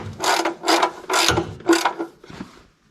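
Ratchet tightening an oil drain plug, four rapid clicking bursts in a steady rhythm followed by a fainter fifth, close and distinct with no talking.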